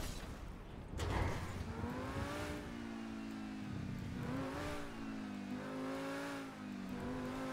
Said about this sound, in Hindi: इस गाड़ी की आवाज अच्छी है।